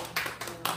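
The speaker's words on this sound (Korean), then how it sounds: "여기 박수 한번 더 합시다" People clap during a Korean church service: a few soft, quick bursts of applause in under a second, fairly quiet.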